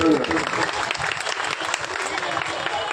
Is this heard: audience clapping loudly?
yes